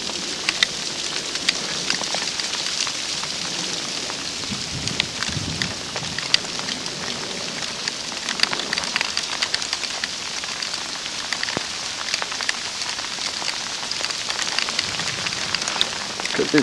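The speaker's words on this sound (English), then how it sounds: "Could almost call this heavy sleet." Heavy sleet pouring down steadily outdoors, a dense continuous patter and hiss of icy precipitation hitting surfaces, loud and unbroken throughout with occasional wind buffeting.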